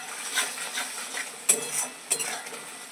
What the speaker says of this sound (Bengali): এখানে ভালো করে এবার মশলাটা কষিয়ে নেব।